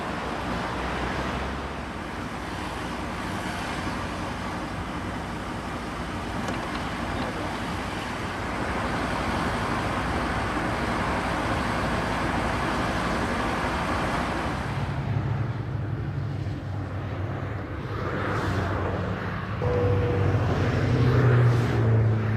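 Car traffic on the coastal motorway to Mataró near Barcelona, a steady broad roar of passing vehicles at moderate distance, growing slightly denser toward the end.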